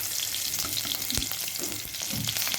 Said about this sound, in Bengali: 2টো কাঁচা লঙ্কা কুচি করে রেখেছিলাম সেটা দিয়ে দিচ্ছি